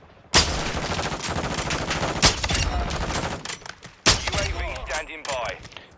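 A hit-scan sniper rifle fires in the video game Call of Duty: Modern Warfare 2. Three sharp, loud shots come a couple of seconds apart, with echoing tails and game sounds between them.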